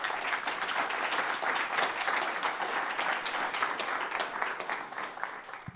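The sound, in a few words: audience applause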